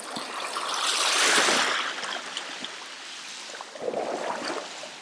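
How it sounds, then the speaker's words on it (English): Winter sea waves washing back down a beach, a broad hissing rush that swells and fades, then a smaller surge of swash near the end, with no voices. "Again, these waves are the things. This is the backwash that's interesting."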